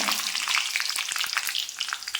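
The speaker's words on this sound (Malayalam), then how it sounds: "ഇനി ഇതിലേക്ക് ഞാൻ 2-3 വറ്റൽമുളക് ഇട്ട് കൊടുക്കുകയാണ്." Dried red chillies crackle and sizzle in hot oil with popped mustard seeds, a bright, continuous spitting fry with scattered sharp pops, close and unobscured by voices.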